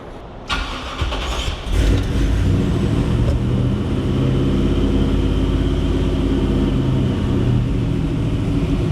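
A vehicle engine in a shop cranks, catches and settles into a loud, steady running rumble close by, with no talking.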